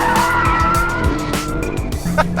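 A performance car drifts sideways on a race track. Its tires screech and skid loudly while the engine revs and drones close by, with pitch sweeps and bursts of tire noise throughout.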